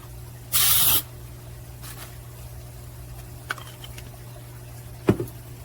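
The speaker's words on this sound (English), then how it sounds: "So I have some Pam baking spray. So we're going to spray that." A single short burst of Pam baking spray into a baking tin hisses loudly, followed by a few faint clicks and a sharp knock against a quiet low hum.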